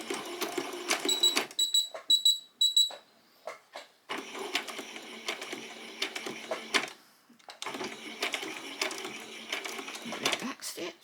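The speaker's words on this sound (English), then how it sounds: "Just going to very slowly sew all the way along the edge." A sewing machine slowly stitches along the edge of fabric for a basic dress, running in several bursts of steady mechanical chatter separated by short pauses, with soft handling noises and a faint voice between runs.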